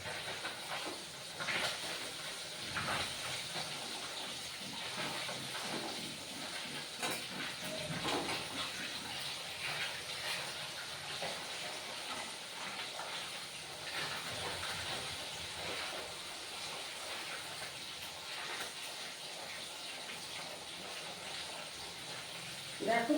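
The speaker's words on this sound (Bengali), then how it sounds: "দেখো মাছটা আমার ভাজা হয়ে যাচ্ছে।" Fish frying in hot oil during home cooking, a continuous hissing sizzle at moderate level with faint voices in the background.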